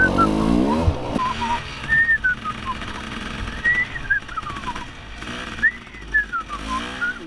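A person whistles a rising and falling tune of several drawn-out phrases outdoors in Ocala National Forest during a dirt biking outing, with engine and background noise rumbling underneath and brief voices at the start.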